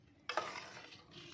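Spices and chili powder being stirred into a tomato pickle mixture: a brief, close scraping and mixing sound that starts abruptly and continues steadily, with no talking.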